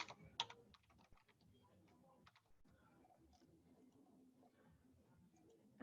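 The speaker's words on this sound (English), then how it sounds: "I'm going to type in Queen Anne" Typing on a computer keyboard while searching for a place in a mapping program, with a few loud clicks at the start followed by soft, steady keystrokes at close range.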